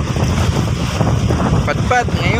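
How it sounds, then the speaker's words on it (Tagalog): Strong habagat monsoon wind roars loud and steady, buffeting the microphone in a constant rumbling rush, while a voice speaks briefly over it. "Malakas na naman yung habagat."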